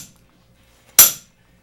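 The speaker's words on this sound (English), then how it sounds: "I take this old rusty piece of junk tool, and this is what I call my slap hammer" An old rusty slap hammer strikes once, a single sharp metallic bang against a nut on an older 5 HP Evinrude outboard motor, then quiet.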